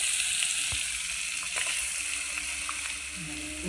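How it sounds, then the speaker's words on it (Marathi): Grated coconut, garlic and coriander paste roasts in a pan for a paneer curry, giving a steady close sizzle and hiss throughout with a few faint scrapes and clicks. "खोबरं लसूण आणि कोथिंबीर बारीक केलेलं मिश्रण चांगलं भाजून घेतलं"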